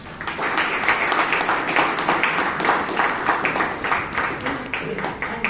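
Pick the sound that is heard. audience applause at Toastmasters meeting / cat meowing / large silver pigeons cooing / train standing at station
audience applause at Toastmasters meeting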